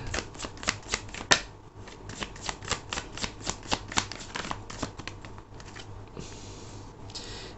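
Tarot cards being shuffled and drawn, a rapid series of crisp riffling flicks and slaps close by, irregular bursts with a softer sliding rustle at the end; no talking.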